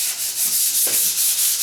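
Someone hand-sands an unpainted interior door, the abrasive rasping in steady, close strokes with a continuous hiss and slight swells, and no voices.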